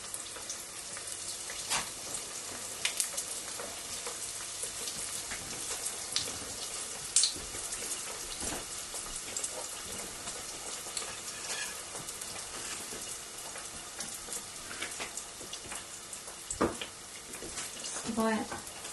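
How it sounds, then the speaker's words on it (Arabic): Sesame balloon bread dough dropped into hot oil, giving a steady, close, crackling sizzle with scattered pops through the whole stretch, while a person talks over it. "وهلا رح سقطهم فيها بالزيت خبز البالون"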